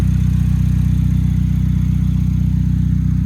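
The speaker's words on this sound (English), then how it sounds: "4-cylinder engine. It runs honestly damn good." A Chevy HHR convertible's four-cylinder engine idles steadily nearby with a low, even rumble and regular pulsing, no voices.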